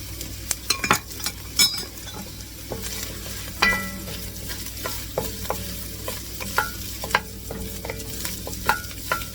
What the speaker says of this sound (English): Now I'm going to add the rice.